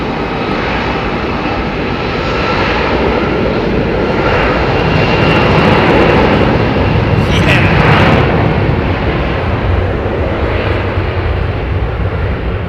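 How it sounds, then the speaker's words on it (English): Airliner jet engines at London Heathrow Airport spool up for takeoff, a loud, broad roar that builds and holds for about twelve seconds. "he's already pushed the throttles forward, or she, bringing up the N1 pressures"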